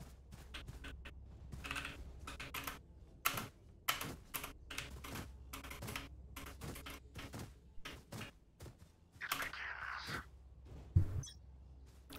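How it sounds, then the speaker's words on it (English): Keys clatter on a loud computer keyboard during a Valorant gaming session, a fast irregular run of sharp clicks and thumps close to the mic, with a brief hiss of other noise partway through. "Why is my keyboard so loud?"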